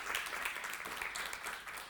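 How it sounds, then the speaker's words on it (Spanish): Brief, faint applause from an audience welcoming a speaker at an evening lecture, a soft even wash of many hands clapping heard from a distance. "Les pido nuevamente un aplauso para el doctor Sapsay"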